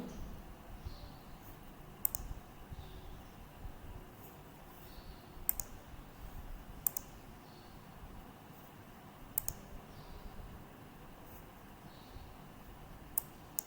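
Computer mouse clicks while creating a diagram in draw.io, faint sharp single clicks spaced several seconds apart over quiet room noise.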